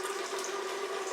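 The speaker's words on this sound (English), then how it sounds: "My faucet's really noisy, if you wondered. It's just the hot water." A noisy hot water faucet runs steadily with a hissing rush and a sustained whistling tone, close and continuous with no talking.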